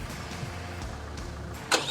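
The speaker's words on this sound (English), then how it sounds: "the engine starts" A GWM Poer pickup's engine starting by remote start: a brief mechanical crank and catch near the end, then a low steady rumble, heard outdoors over faint ambient noise with no talking.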